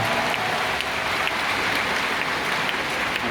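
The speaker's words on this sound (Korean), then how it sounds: "네, 큰 박수 부탁드릴게요." A concert crowd applauding, a thick wash of clapping that holds evenly loud throughout with no voices standing out.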